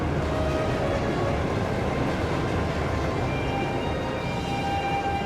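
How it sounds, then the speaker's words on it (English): A train travelling in Trails of Cold Steel II, a steady low rumble and hum of carriages with faint high tones, even and moderately quiet throughout, no voices. "now we're going on a train again"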